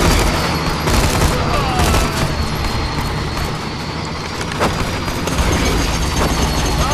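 Dense, continuous SMG gunfire in the video game Borderlands 2, loud and close, with explosive booms and battle noise layered over it throughout.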